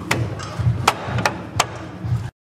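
Several sharp metallic hammer strikes ring out at irregular intervals while tuning a Fiat car, close by, over a low rumbling background.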